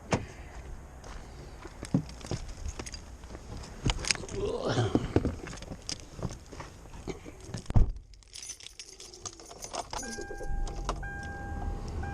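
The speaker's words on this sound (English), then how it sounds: "I'm going to get in the car for a couple minutes. Turn it on." Car on a cold December day: door and handling clatter, then the engine starts and settles into a quiet idle with electronic chimes, nearby and moderately loud.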